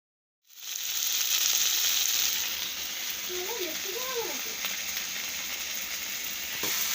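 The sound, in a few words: frying in a pan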